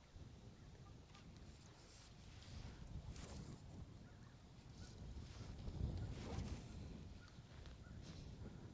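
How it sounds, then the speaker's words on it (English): Wind blows steadily upstream over a river where someone is fishing, a low broadband rush with gusts that swell and fade, close to the microphone and without any talk. "Now that wind's blowing upstream."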